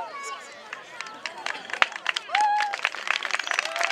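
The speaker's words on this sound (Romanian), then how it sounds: "Aplauze încă o dată pentru toți." Audience at a Romanian folk tradition gathering breaks into applause, sharp individual claps building into a fuller round of clapping, with voices and talk mixed in around it.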